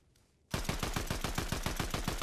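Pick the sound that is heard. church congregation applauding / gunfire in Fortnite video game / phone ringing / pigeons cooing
gunfire in Fortnite video game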